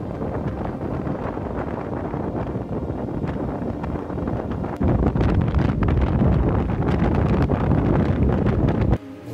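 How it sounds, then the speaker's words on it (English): Strong gale-force wind buffeting a tent at a mountain lochan wild camp: continuous loud roaring gusts and flapping fabric that grow stronger partway through and then drop suddenly at the end. "it's just the wind chill because it's such a strong, almost, I would say it's a gale."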